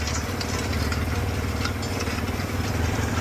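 A Fendt 1050 Vario tractor pulling a TWB Terminator cultivator with subsoil legs through strong land produces a steady, deep engine drone that holds an even, loud level throughout with no voices.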